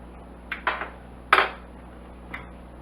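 Metal cutlery scrapes and clinks against a pot of chicken and vegetable casserole with onions and garlic, a few short close taps and scrapes spaced out with quiet between them.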